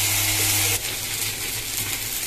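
Ginger-cumin paste frying in a pan for vegetarian mung dal, a strong close hiss that drops abruptly partway through and settles into a softer, steady sizzle with faint crackles.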